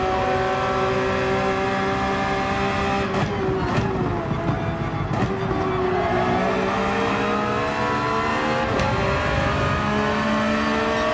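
A race car in a racing video game at Yas Marina Circuit drones loudly and steadily, its engine pitch climbing as it accelerates with a few gear shifts, close and continuous with no talk.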